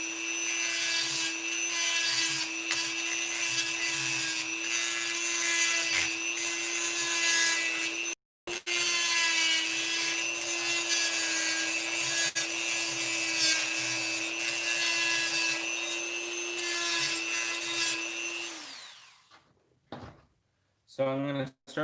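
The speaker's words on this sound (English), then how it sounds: "I got my Dremel tool right here, and I'm going to show you guys right now what I do." A Dremel rotary tool trims the end of a crushed brass fitting, giving a steady high-pitched whine with grinding under it that runs close and continuous, cuts out briefly, then tapers off near the end.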